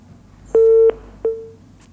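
Touch-tone telephone line tones on a live call-in radio lesson line, two short electronic beeps with a pause between them, clear and alone against a quiet background.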